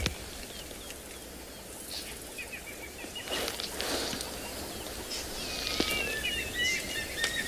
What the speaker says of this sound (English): Can hear a lot of bird activity.